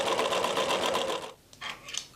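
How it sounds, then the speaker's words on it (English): A serger whirs steadily as it finishes the raw cut edges of knit fabric, the neckline of a top and the hems of shorts, running loud and close for over a second before stopping, then a couple of brief softer bursts. "Finish the cut neckline of the top and the bottom edges of the shorts on a serger."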